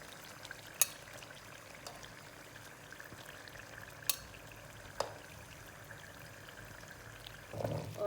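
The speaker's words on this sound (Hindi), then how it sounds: "और अब मैं इसमें डालूँगी चने।" Chickpeas are added to a cooked masala with ghee for a Lahori chickpea curry, with a low steady fry, a few sharp clinks and a louder pouring rustle near the end.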